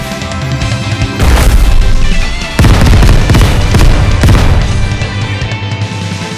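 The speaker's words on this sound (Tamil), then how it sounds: "Explosion bomb!" An explosion bomb goes off in an animated action cartoon, loud and booming in two heavy bursts with crashing debris, drawn out over music-like tones.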